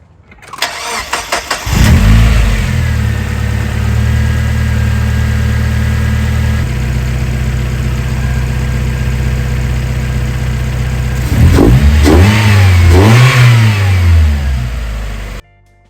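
A Mazda Miata fitted with a DIY short ram intake cranks and fires, settles into a steady loud idle, then revs sharply several times near the end, close and unaccompanied by talk.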